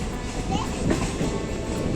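Long goods train hauled by two locomotives rolling along the Konkan Railway near Mangalore, a steady broadband rumble of wheels and wagons with a faint squeal, continuous and fairly close.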